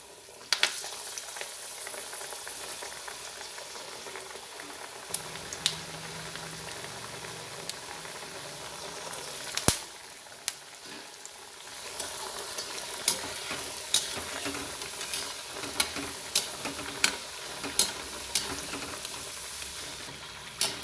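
Rice flour vada batter frying in hot oil, a continuous close hiss and crackle with occasional sharp pops and spoon clicks, no voices.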